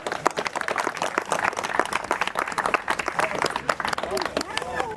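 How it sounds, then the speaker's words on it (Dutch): Audience applause at the Dutch tractor pulling championship, uneven clapping from a crowd with sharp individual claps, heard outdoors alongside crowd noise and talk. "Geef hem in ieder geval daar een applaus."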